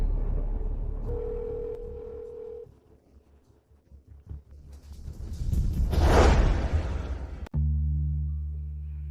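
A steady telephone dial tone sounds for a couple of seconds as a call is placed, followed by shuffling, a swelling whoosh, then a low humming tone, with no talking.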